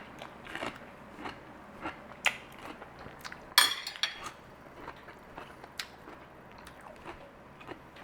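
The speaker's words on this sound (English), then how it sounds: "Okay, our cabbage. Look at this. Crunchy, not soggy cabbage." Close, quiet crunching bites into crisp pickled red cabbage, with several sharp crunches and chewing sounds and one louder snap midway.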